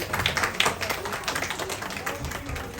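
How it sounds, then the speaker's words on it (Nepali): An audience claps for a vice president at a formal event, with dense, uneven clapping close by and a faint murmur of voices beneath it. "ताली बजाइदिनु होला हाम्रो उपाध्यक्षज्यूलाई।"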